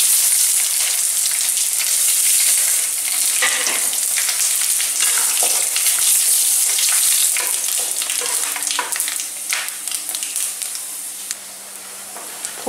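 Dry red chillies, panch phoron and a bay leaf dropped into hot oil in a home kitchen, sizzling and crackling loudly and continuously, with scattered pops and sharper spits, no talking.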